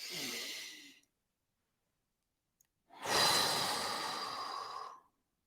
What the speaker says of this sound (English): And then we have a deep inhale.